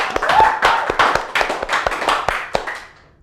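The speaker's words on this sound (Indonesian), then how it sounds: "Tepuk tangan dulu dong" A small audience at a talk event about weddings claps in close, distinct beats, about a dozen sharp claps over three seconds before tapering off.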